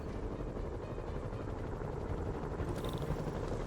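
A steady video game helicopter rotor in Marvel's Spider-Man whirs with a low, constant thrum, loud and continuous, with no voices.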